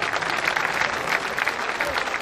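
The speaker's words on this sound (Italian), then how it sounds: "Applausi, applausi." Audience applause at an outdoor town band concert during a patron saint festival in Manfredonia, a steady dense clapping from a crowd that fills the whole moment without a break.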